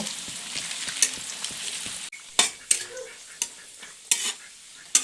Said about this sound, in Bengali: এরপর কিচমিচটি ভেজে নেব